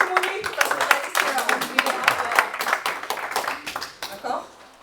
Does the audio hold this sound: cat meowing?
no